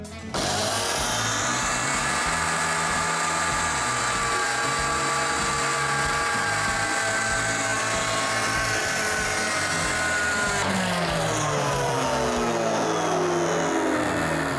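A homemade table saw's motor, with worn, shortened carbon brushes, hums and whines steadily and loudly just after switching on. The tone holds for a long stretch, then shifts pitch slightly partway through.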